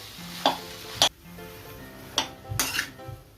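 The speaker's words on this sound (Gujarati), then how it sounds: "આપણે હવે આ બાફેલા બટેટા એડ કરશું। આપણે થોડું મિક્સ કરી લેશું। મેં ગેસ સ્લો જ રાખ્યું છે।" Boiled potatoes being stirred in a pan over low gas, with a few sharp scrapes and clinks of a spoon against the pan over a soft, steady sizzle.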